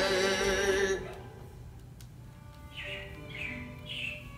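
A few bright, quick robin chirps ring out one after another near the end, following a brief louder noise at the start, in the Carousel of Progress show.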